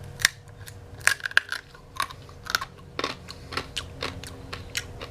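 Rock-hard hardtack survival bread is knocked together, giving a quick series of sharp, dry clacks and taps at close range with no talking.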